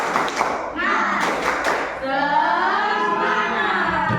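An Indonesian primary school class does a rhythmic spirit clap together, bursts of hand claps mixed with children's voices chanting loudly in the room.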